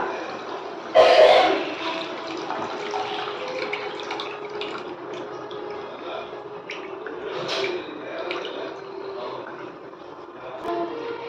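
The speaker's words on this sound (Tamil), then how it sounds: "இப்போ புளி தண்ணி சேர்த்துட்டுங்க." Tamarind water poured into a pan for a coriander leaf thokku, a short splashing gush up close followed by quieter sizzling and bubbling with occasional small clinks.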